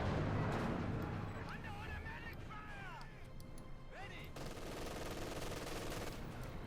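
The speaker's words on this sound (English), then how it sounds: "And Fahu there with an MG42." MG42 machine gun fire in the Company of Heroes 2 strategy game, bursts of fairly faint, distant rattling mixed with battlefield noise under a continuous voice talking.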